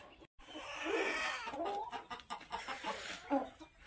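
Free-range country chickens and roosters cluck and call inside a farm shed, a few overlapping bird voices at moderate distance with soft background noise.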